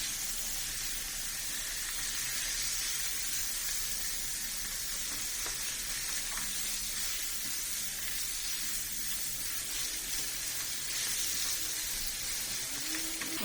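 Chicken with ginger garlic paste sautéing on a high gas flame for chicken roast, a steady broad sizzle and hiss filling the whole stretch with faint stirring scrapes and no talk.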